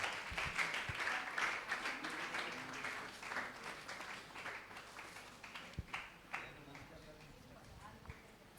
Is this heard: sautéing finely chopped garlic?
no